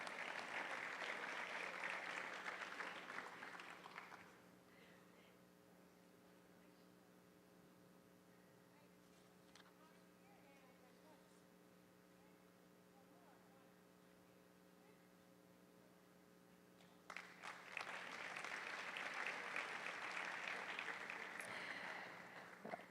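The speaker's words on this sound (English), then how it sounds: "Round of applause for them." Loud applause from a school district audience honoring Evans Super Scholars fills the opening seconds, drops away to a quiet stretch of low electrical hum, then returns just as strongly near the end.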